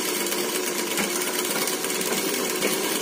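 A sewing machine stitching folded fabric hems during a straight-stitch lesson, running as a continuous close rapid mechanical whir and clatter with no talk.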